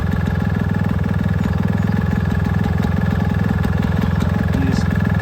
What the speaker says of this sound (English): How low the idle goes on this machine.